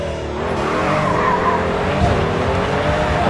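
Race car engines whine and rise in pitch with sustained tire squeal and skidding, from online racing on the Red Bull Ring in the GRID 2 video game, loud and continuous without speech.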